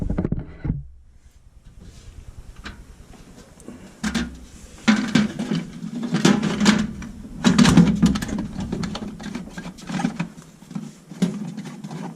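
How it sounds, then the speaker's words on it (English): A basement water pump runs with a steady low hum and irregular mechanical clunks and rattles, close and fairly loud. "That must be definitely just that pump."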